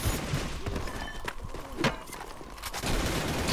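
Rapid M4 rifle fire in a shooting video game crackles in dense bursts, with scattered thumps and layered game noise throughout.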